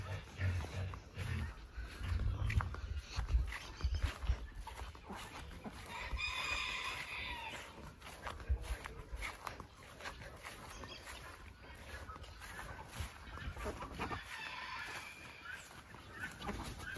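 Chickens clucking around a farm coop with a rooster crowing in bursts, close and fairly faint, alongside rustling and handling noises and a voice speaking at times.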